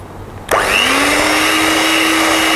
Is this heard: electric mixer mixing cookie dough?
yes